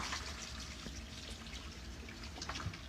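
Water gushes and trickles steadily out of an interior basement drain tile system, a close, continuous splashing flow with no talk.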